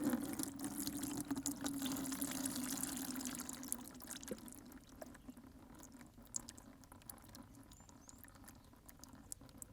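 Liquid is poured through a garden sprayer's filter, a soft trickling splash that is strongest at first and then thins to faint dribbles and drips.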